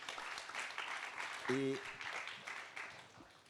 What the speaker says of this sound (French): on vous applaudit pour avoir tenu parfaitement le temps